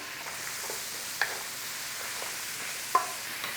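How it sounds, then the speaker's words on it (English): Onion, carrots and celery sizzle in a pan during a quick stir, a steady quiet frying hiss with a couple of sharp scraping taps of the spoon against the pan, no talk. "Take out the rawness of the onion. Nice quick stir."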